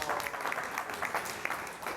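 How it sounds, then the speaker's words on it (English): An audience at a devotional gathering in Vrindavan claps together, a lively patter of hand claps with a few sharper peaks, fairly close and continuous for two seconds. "Very good, applaud."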